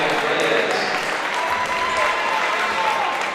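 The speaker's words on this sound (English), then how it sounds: "Nice round of applause for the Yellow Jacket" Steady, dense applause from a basketball crowd cheering the Yellow Jackets during a timeout at a Section 8AA first-round high school game, Perham versus Crookston, with a faint whistle tone and murmured voices mixed into the continuous clapping.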